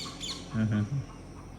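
A loud, harsh bird call sounds out in two or three squawking bursts, like a peacock's cry, over quiet outdoor ambience.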